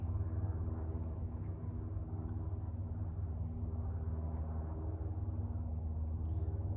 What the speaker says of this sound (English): It wouldn't be the same without the airplane noise.